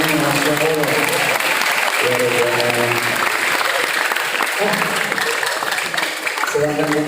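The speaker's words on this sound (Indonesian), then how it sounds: "berikan tepuk tangan untuk beliau malam hari ini" An audience at an evening family gathering claps warmly, a loud continuous patter of many hands, while a voice talks faintly underneath at moments.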